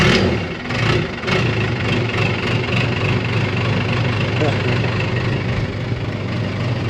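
A Case bulldozer with a Cummins engine, started cold after snow had sat on it, settles into a loud, rough, rumbling idle with a pulsing low drone close by, while people talk over it.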